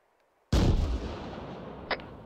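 Artillery gun in a military video game fires one loud booming shot, with a long rumbling tail that fades over two seconds and a brief sharp secondary crack near the end, heard alone without voices.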